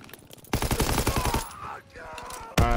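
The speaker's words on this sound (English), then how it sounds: "Tommy gun 2 shots" A Tommy gun fires in a video game in two fast automatic bursts, the first a rapid rattling volley of about a second, the second starting abruptly at the end, loud and close.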